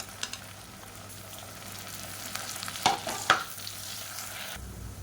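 Sliced onions and mint sizzle steadily in hot oil for a chicken biryani, with a couple of sharp utensil scrapes and clinks as the pan is stirred partway through.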